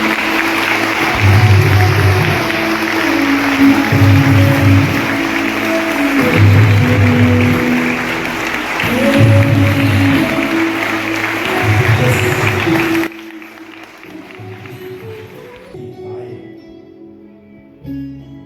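A hall full of students applauds in a sustained, dense wash of clapping with rhythmic swells, at an event where actor Thamu addresses them. The clapping fades down near the end.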